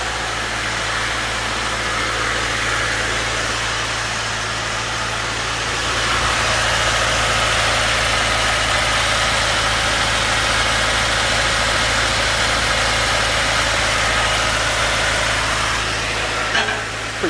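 A Subaru Levorg MY17 engine idles cold during an oil change, a steady close-up hum with a low throb that thickens slightly midway and continues unbroken.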